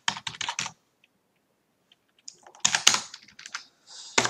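Typing on a computer keyboard, two bursts of quick close keystrokes separated by a quiet pause, with a final cluster of taps at the end.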